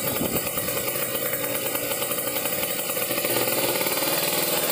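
A motorcycle engine idles close up with a steady, rapid, even putter that runs throughout without a break, loud and alone with no voices.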